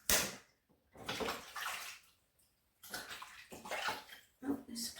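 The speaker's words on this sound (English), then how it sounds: "Wash my hands." Hands being rinsed under running water outdoors in a garden, with bursts of splashing flow that stop and start across the moment.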